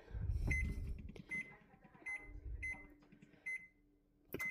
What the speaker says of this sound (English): let's get this oven on